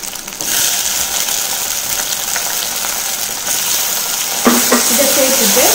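A tomato goes into hot oil with onion and garlic, giving a bright, continuous sizzle close by, punctuated by light scraping and clinking as the mixture is stirred.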